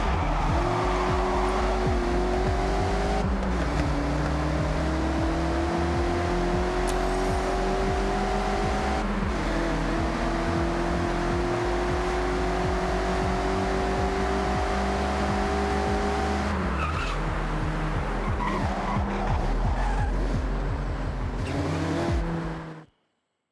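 A Mazda MX-5 drifts in the Forza Horizon 6 racing game, its engine revving in rising sweeps through the gears while tires squeal around corners, loud and continuous before stopping abruptly at the end.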